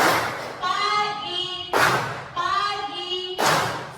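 A class of pupils claps together during a morning icebreaker clapping game, with loud bursts of group claps alternating with chanted voices in a steady rhythm.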